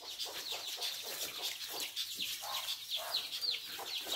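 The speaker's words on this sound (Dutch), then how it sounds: "Hier is een hen met kuikens." A hen and her chicks on a poultry farm cluck and peep continuously and fairly close, a dense chatter of small high calls with no talking.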